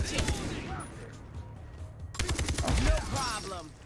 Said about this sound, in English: this assault rifle is actually quite nice